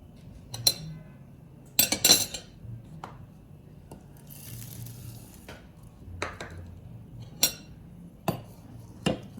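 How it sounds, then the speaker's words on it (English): A spoon stirring oats into a mixture in a bowl makes irregular clinks and scrapes against the bowl, sharp close knocks separated by quieter rubbing and pauses. "I also stir to make sure the oats is well incorporated into the mixture"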